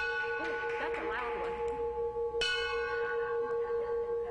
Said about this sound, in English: This is video of Crystal Higgins ringing the bell at the Lewis Cancer and Research Pavilion today after completing 4 chemotherapy treatments for breast cancer.